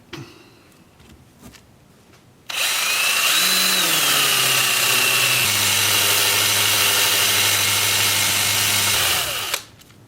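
A spalted sycamore bowl spinning on a lathe while being sanded gives a loud, steady motor whir with a broad abrasive hiss, starting abruptly after quiet and running continuously before cutting off near the end.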